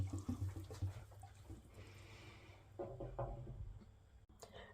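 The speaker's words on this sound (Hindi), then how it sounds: "तो जितना पानी निकल सकेगा वो निकाल लूँगी इसी तरह।" Water draining out of a bunch of fresh coriander that had been soaked in vinegar water, a soft trickle and splash heard close up and fairly quiet, with faint handling sounds.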